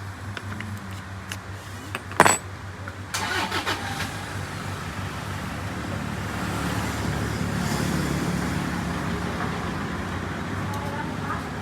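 An Arnold PA300 gasoline water pump engine starts with a sharp pull-cord crack, then catches and settles into a steady, close mid-pitched running drone.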